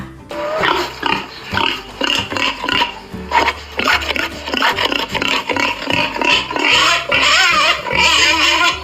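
A pig grunts and snorts repeatedly in quick, rough bursts, close and loud, with no talking.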